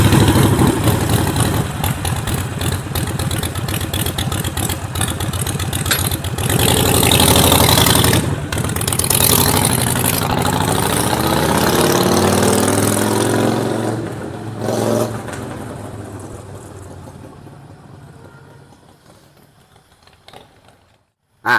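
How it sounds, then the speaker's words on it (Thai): A tuned car engine is revved hard, climbing through each gear in long loud sustained pulls with rising pitch, then easing off and fading toward quiet at the end. "ลากดูเลยลากพยายามลากดูทุกเกียร์ให้ได้"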